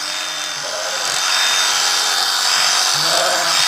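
Electric shears buzzing steadily through dirty wool on a sheep, a loud continuous close hum with slight changes in pitch as the cutter moves.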